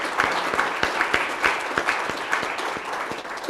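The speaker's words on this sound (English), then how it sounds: "Let's hear another round of applause for these students." An audience applauds student essay winners at a community forum, a dense burst of many hands clapping that carries on steadily, fairly loud and close.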